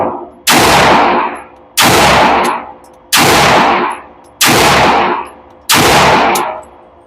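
Five loud, evenly spaced pistol shots fired with standard 115-grain full metal jacket ammunition, each a sharp close crack followed by a long decaying outdoor echo.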